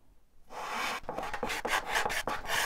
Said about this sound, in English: I'll come by with a rasp.